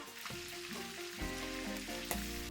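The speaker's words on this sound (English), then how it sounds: "use a neutral oil to go ahead and fry the fish until a nice golden brown" Salted fish pieces frying in neutral oil for Fijian fish lolo, a close steady sizzle and crackle that keeps going with no break, with faint background tones and no talking.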